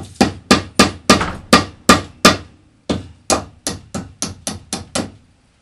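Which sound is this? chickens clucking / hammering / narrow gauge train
hammering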